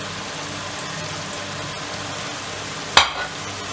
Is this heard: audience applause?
no